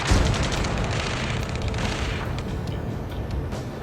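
Gunfire and explosions in Ace Combat 7, a dense barrage of booming blasts and rapid shots, loudest at the start and then a sustained rumbling roar.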